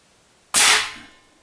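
Single sharp crack of an AirForce Condor air rifle shot, .25 or .22 calibre, loud and close, with a short decaying tail in an otherwise quiet moment.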